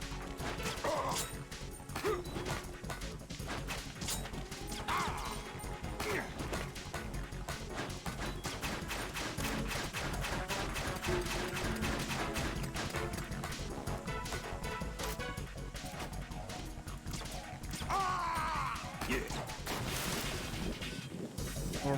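Gunfire and impacts in Metal Gear Solid 2, with dense rapid crackling bursts and crashing hits running almost without pause, loud and close with no speech.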